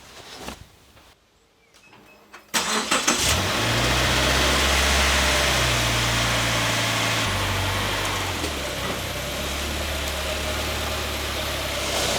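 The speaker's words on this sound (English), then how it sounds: "I've had the engine running now for about 5 minutes" After a few quiet seconds, the engine of a Subaru Forester XT (SJ generation) starts and settles into a steady, rumbling idle that continues evenly.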